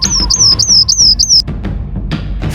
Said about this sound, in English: rock wren.